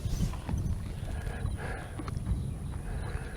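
A mare's hooves clip-clop in a quick, uneven rhythm at a moderate distance, fairly quiet against low background noise, with no talking.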